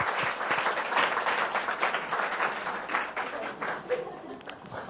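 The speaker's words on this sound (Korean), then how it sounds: "박수로 좀 모시겠습니다" Lively applause from a live lecture-show audience as guests are invited onto the stage: close, fairly loud clapping with uneven surges, and a few voices blending in.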